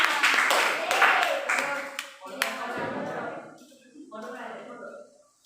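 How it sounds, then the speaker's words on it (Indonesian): Students in a classroom clap their hands together, bursts of claps close by that thin out and fade, with talking running through and over them. "kasih tepuk tangan semuanya"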